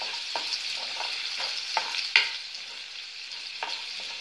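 Crushed garlic and cumin tempered in hot oil, crackling and sizzling steadily up close, with repeated spoon scrapes and taps against the pan and one sharper spatter midway.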